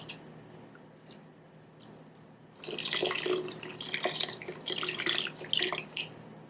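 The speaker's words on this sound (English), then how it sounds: "Now we're going to pour the rest of our puree in." Puree is poured into a pot in a kitchen, a steady wet splashing and trickling that starts partway through and continues to the end, close and fairly quiet, with no talk.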